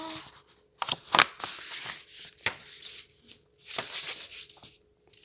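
Paper being folded by hand into a small pouch, close crisp rustles and crinkles in scattered bursts with brief pauses between folds, no voices.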